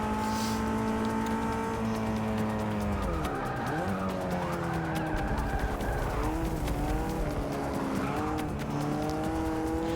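Race car in Forza Motorsport 6 braking hard, tires squealing and skidding over a loud, continuous engine drone whose pitch drops and rises as it slows and accelerates again.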